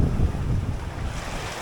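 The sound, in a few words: ocean waves and wind on a small sailboat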